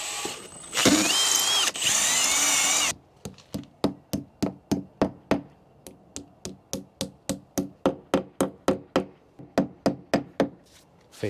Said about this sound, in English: so we'll drill them out